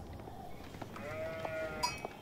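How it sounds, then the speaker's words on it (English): A sheep bleats briefly in the Age of Empires 4 video game, heard over steady in-game ambience and small clicks, with no talking. "I grabbed the sheep in between our bases"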